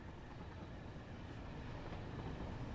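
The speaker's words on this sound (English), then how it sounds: "I can hear the gentle trundle of a train coming in." A train rolling into a station in the factory-building game Satisfactory, a faint low continuous rumble and trundle that holds steady throughout, with no talk.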